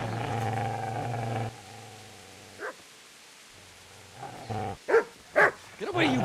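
A dog barks in Kingdom Come: Deliverance, several sharp close barks in a quick burst near the end, after a stretch of low humming background and a single earlier yelp.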